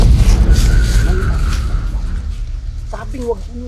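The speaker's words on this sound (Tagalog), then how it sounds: "Bakit umutot ka?" A loud, low, rumbling fart bursts out at the start and stretches over roughly two seconds, broad and buzzy before trailing off; a voice speaks briefly near the end.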